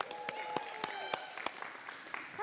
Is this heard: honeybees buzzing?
no